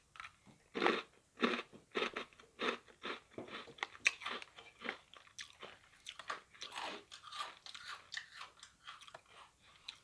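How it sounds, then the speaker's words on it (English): Loud, close crunching as Jagabee ketchup-flavored potato snacks are bitten and chewed, sharp crackly bursts repeating in an uneven rhythm with no talking. "Try and hear the crunch."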